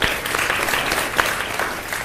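Brief, steady applause from the audience at a data careers panel, a dense patter of clapping hands lasting about two seconds with one slightly louder clap midway.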